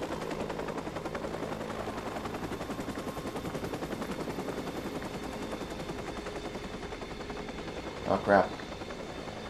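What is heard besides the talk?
helicopter in the video game Watch Dogs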